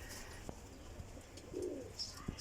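A pigeon sitting nearby gives a brief soft coo, faint and low, with a few small clicks and rustles around it and no talking.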